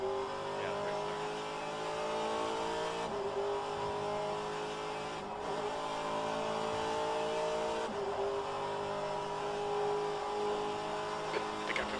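Race cars accelerate in an rFactor 2 online race at Daytona, a steady loud engine drone with repeated revving rises and gear-shift dips, sustained throughout with no talk.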